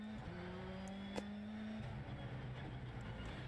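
Race cars on a track in Las Vegas, heard faintly through a playing video: a steady engine drone holds, then its pitch drops as a car passes, with a distant rumble behind.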